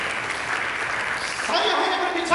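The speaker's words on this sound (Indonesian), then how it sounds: "Mari kita minta tepuk tangan bagi Yesus." Church congregation applauding together, a steady wash of clapping that swells louder in the last second, with voices mixed in.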